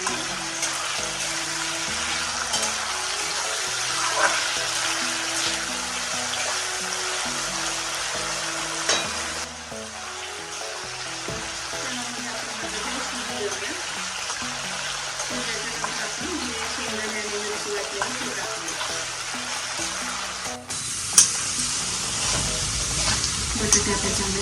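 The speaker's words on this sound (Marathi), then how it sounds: "त्याच्यामध्ये आपण थोडंसं मीठ टाकूया आणि त्याला मला चांगलं परतून घेऊया।" Potatoes sautéing with salt in a pan for fasting sabudana, a continuous sizzle under steady music, with occasional stirring knocks and a brief pause near the end.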